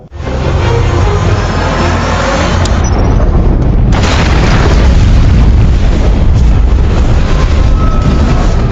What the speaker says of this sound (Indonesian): Melihat ledakan yang membuat rumah Jack hancur berkeping-keping